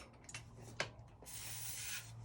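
WD-40 or tire lube spray hisses onto a tire bead during mousse installation, first in short bursts with some rubbing and handling noises, then in one longer steady spray, close and quiet.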